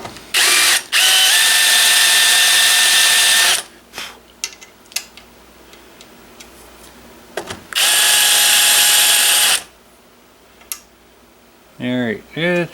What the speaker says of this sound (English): Get my tang screw here so I can make sure I don't over countersink.